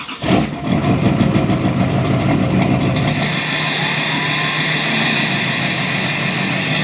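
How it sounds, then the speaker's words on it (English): A Subaru STI engine cold-starts with a short burst, then settles into a steady, loud idle with a constant mechanical drone and no voices. "every good day starts off with a cold start for the boys"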